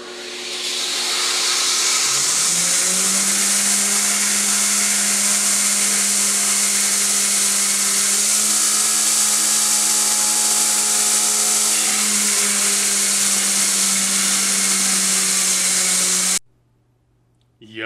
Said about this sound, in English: I'll just take it over to the belt grinder,